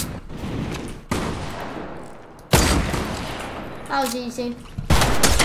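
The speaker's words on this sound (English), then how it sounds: "Now we've gotten to the best SMG, the rapid fire SMG. This thing shreds." A rapid fire SMG in Fortnite unloads in long, dense bursts, loud and close, separated by brief gaps, with a short spoken remark partway through.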